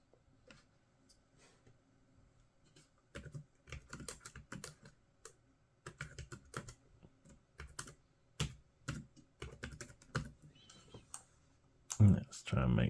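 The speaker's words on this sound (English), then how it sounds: "Let's try some typing." Someone types on a small Ubisurfer netbook keyboard in irregular bursts of clicky keystrokes, close to the microphone, and a loud thump comes at the end.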